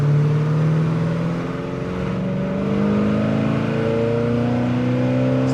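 A 1970 Chevelle Super Sport engine rumbles deep and close, idling steadily while its pitch slowly creeps upward.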